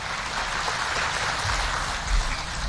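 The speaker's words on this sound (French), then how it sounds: "sous vos applaudissements, mesdames et messieurs" A steady, dense wash of applause from an audience at an official ceremony for the 13th African Vaccination Week, holding evenly loud throughout with no voices on top.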